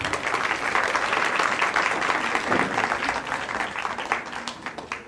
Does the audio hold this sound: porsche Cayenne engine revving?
no